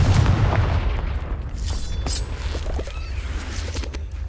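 Confringo fire-blast spell exploding in the Hogwarts Legacy video game, heavy booming blasts with a deep rumbling low end that roll on continuously, loud and close, with no talk.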